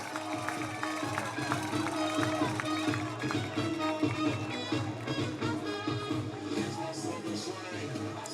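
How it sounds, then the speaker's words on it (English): Home fans at a college football game between Reinhardt University and Cumberland University make a steady, dense roar that fills the stadium and continues unbroken, with an announcer's voice heard over the crowd. "the home crowd is fired up"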